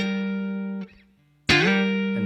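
An electric guitar slides a chord shape up the neck for a song. A sustained chord is followed by a brief gap and a sharp new strum that rings on, played close with no speech.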